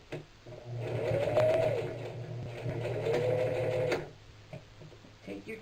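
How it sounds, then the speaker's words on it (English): A sewing machine runs steadily for about three seconds, stitching a seam in a burlap coffee sack for a clutch bag, its motor hum close and continuous before stopping, followed by a few faint handling taps. "Make sure your seam lays flat under the presser foot as you're sewing."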